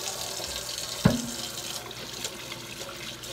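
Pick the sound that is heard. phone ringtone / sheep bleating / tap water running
tap water running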